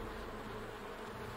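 A swarm of bees hums around a cabin in a steady, dense drone that stays loud and continuous throughout, with no voices.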